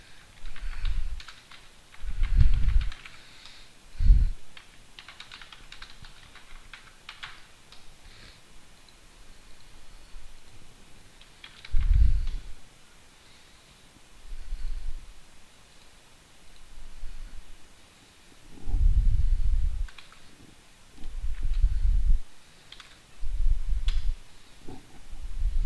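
Keyboard typing and mouse clicking on a computer, close up, coming in short separate bursts of rapid keystrokes with quiet pauses between them.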